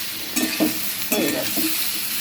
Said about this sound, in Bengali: ঝিঙেটা দিয়ে আমি বেশ কিছুক্ষণ নাড়বো